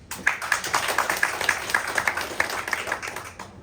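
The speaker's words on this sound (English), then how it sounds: "Guys, round of applause, please." Audience clapping at a Taiwanese startup open pitch session, a steady patter of many hands at moderate distance filling the room for a few seconds before the next pitcher takes the stage.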